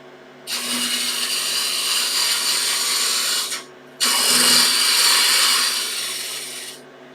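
A woodturning lathe cuts a small wooden bud vase in two loud, sustained passes of harsh scraping hiss, separated by a short pause near the middle.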